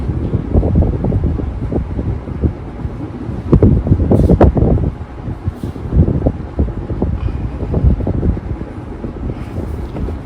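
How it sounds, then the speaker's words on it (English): A 36-inch ceiling fan in a house runs on its low speed, which is quite fast, giving a loud, close, steady whooshing rush of air with buffeting gusts against the microphone. "Like typical 36-inch fans, the low speed is very fast."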